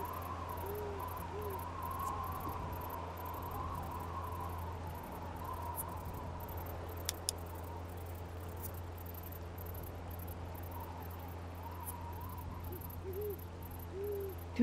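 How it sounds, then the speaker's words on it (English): An owl hoots repeatedly in a nighttime Grand Canyon scene in a video game, soft wavering calls over a quiet ambient hum with faint rustles and chirps. "Can hear the owl?"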